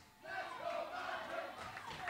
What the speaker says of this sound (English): And right away, this crowd getting behind the Blackheart Warrior Mandrake.